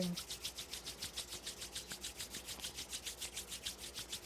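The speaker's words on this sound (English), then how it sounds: "Rub the palms together." Palms rubbing briskly together in a steady back-and-forth rhythm of about seven strokes per second, each stroke a soft dry swish, close and fairly quiet, during a Kundalini yoga practice with no talk over it.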